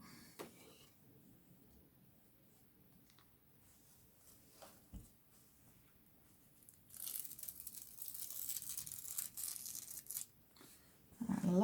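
Craft foil crinkles and rustles up close as it is moved aside during paper napkin foiling, soft handling at first and then louder, steady crackling toward the end, with no talk.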